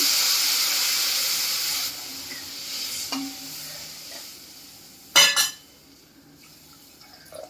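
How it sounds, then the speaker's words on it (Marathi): Water pouring and splashing into a pan of simmering gravy for a Marathi sandge vegetable curry, a steady hissing pour that fades, followed later by a short stirring clatter near the end. "इथे जवळजवळ मी अर्धा ते पाऊण तांब्या पाणी घातलेलं आहे"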